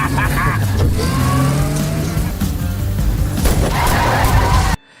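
A Bugatti is driven out of a container, its loud engine revving with squealing tires and rumbling motion under a talking voice, ending abruptly.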